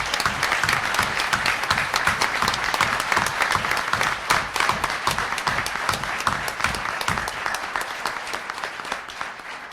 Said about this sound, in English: one final round of applause for everyone who was recognized tonight